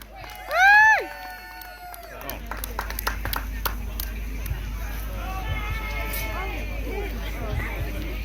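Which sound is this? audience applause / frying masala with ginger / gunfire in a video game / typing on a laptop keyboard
audience applause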